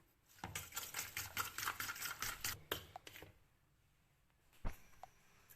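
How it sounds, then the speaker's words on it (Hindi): Omelette ingredients with coriander and salt are whisked in a bowl, a quick run of close, rhythmic clicking and scraping strokes that stops abruptly, followed by a single louder knock. "इन सब चीज़ों को अच्छे से अब मिक्स कर लें"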